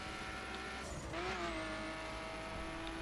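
Racing car engine droning steadily in the video game The Crew, a Lamborghini held at high revs with a rising whine and brief tire noise, continuous and close with no talk.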